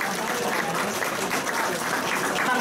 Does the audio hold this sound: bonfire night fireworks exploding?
no